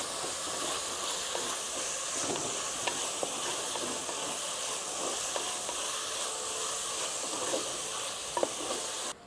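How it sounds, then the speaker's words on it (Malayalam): Onion, garlic, ginger, curry leaves and small chillies sauté in a pan for a Kerala fish head curry, with a steady close sizzle and hiss and occasional light stirring taps. "നമ്മുടെ ഉള്ളി ഇതെല്ലാം കൂടെ വഴന്ന് വന്നിട്ടുണ്ടേ. വെളുത്തുള്ളി, ഇഞ്ചി, കറിവേപ്പില, കാന്താരി എല്ലാം കൂടെ."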